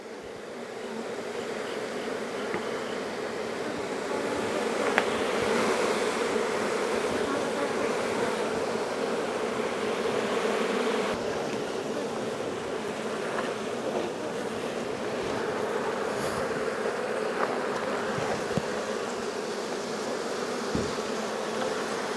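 Honeybees hum steadily around a hive super as they are driven down off it, a dense continuous buzz that stays close and fairly loud throughout.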